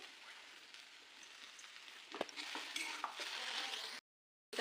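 Okra being stirred in a pan with coarsely ground peanut powder and salt, giving soft scraping and light crackling with a few sharper clinks of the spoon, fairly faint, then a short silence near the end.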